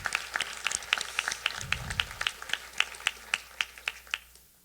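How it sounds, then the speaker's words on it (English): A small group at a college charter day ceremony claps briefly, a scattered patter of hand claps lasting a few seconds in a quiet room, fading out at the end. "Even though he's not here, I think we should clap for him."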